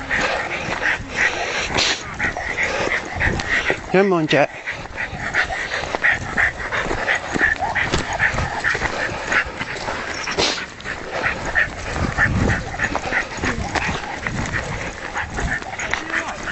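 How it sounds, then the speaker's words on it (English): A dog named Jet out on a walk on a sunny day, whimpering and yipping in short bursts near the microphone while someone talks over steady outdoor rustle and wind. "They got a dog with him."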